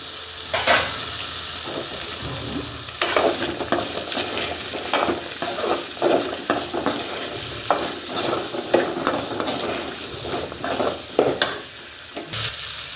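Tomatoes and onions sizzling in a pan with garlic for a Tamil yam kara kuzhambu, with repeated scraping stirs of a spoon against the pan over a constant frying hiss, close and fairly loud, no talk.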